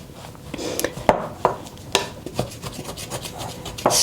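Spatula scraping sticky spelt sourdough off the sides of a mixing bowl, a series of short close rasping strokes with soft clicks, irregular and moderately loud, with no talking.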